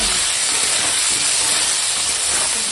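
Green chillies frying in hot oil give a loud, continuous hissing sizzle, dense and close, holding steady for a few seconds.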